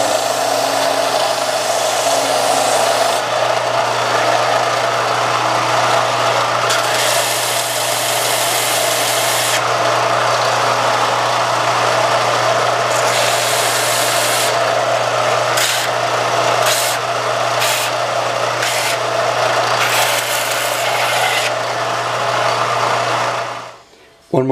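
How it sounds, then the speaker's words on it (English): A belt sander runs steadily and loudly with a constant motor drone and broad grinding hiss, swelling and easing as pressure shifts on the belt, with music playing in the background; it cuts off abruptly at the end. "So we just kick on the belt sander"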